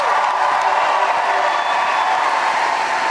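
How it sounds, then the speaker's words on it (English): Large crowd at a Bernie Sanders political rally in Charleston, South Carolina, applauding and cheering in a loud, continuous roar of clapping and voices that holds steady throughout. "Let's give Aaron another round of applause."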